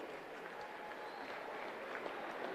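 Crowd applause at a secondary school swimming championships award, a steady wash of clapping from a large audience, faint and distant throughout.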